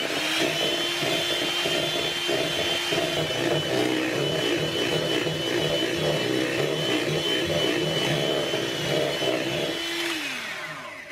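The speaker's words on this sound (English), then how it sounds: "now we will whisk the cream until we've got thickened cream" Electric beaters whisk cream in a home kitchen, a steady loud motor whine with a rhythmic churning texture that runs for about ten seconds before the pitch drops as the mixer slows.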